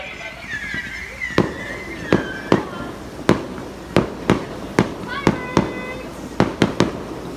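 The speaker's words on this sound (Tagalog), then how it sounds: "Pa-fireworks na to ay ang umpisa ng aming gabi." Fireworks opening an evening show pop in sharp, separate bangs every half second or so, some in quick pairs, over a murmuring crowd and a faint whistle.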